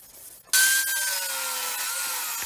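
Wood being power-sanded after drying on a wooden door panel with a 3D optical-illusion design; a loud, steady motor whir with a whining tone starts abruptly after a short quiet lead-in and continues without a break.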